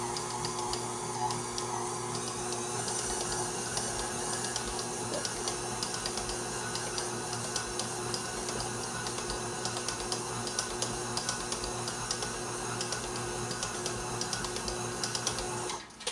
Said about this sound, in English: Now my stand mixer is not really big enough for this to do it easily.